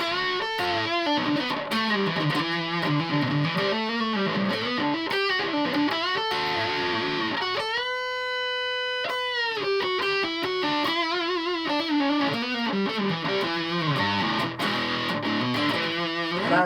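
G&L ASAT Junior electric guitar with P90 pickups played through fuzz distortion: a continuous, buzzy, saturated riff of fast notes with a held chord in the middle, loud and alone without talk.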